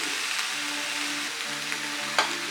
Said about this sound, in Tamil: ஒரு நிமிஷத்துக்கு காய்கறி நல்லா பரட்டி எடுத்துக்கலாம்.